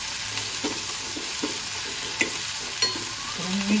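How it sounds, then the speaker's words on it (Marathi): Finely chopped tomato sizzles in a hot pan while it is stirred, a soft steady frying hiss with faint scrapes and taps of the spoon, close and fairly quiet, no talking. "टोमॅटो जरा मऊ होईपर्यंत आपण परतून घेऊया।"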